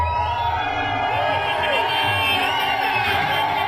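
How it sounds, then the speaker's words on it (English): A dense crowd of Venezuelans cheers and celebrates continuously, a steady wash of voices and whoops at moderate distance. "Venezuelans cheering"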